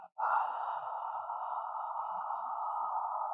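One drawn-out breath out during a short Pelvic Flow breathing drill, starting abruptly and holding an even, airy hiss near the microphone until the end, with no talking over it.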